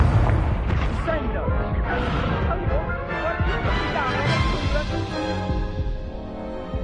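The Confringo explosion spell in the video game Hogwarts Legacy bursts as a series of heavy, booming blasts with rumbling tails, while voices are heard underneath.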